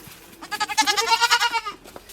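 A single goat, a Murrah breed, lets out a loud, close, wavering bleat lasting over a second, alone with no talk over it.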